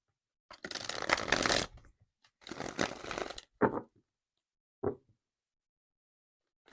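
Tarot cards shuffled up close in two long riffling bursts, followed by a couple of short taps as the deck settles.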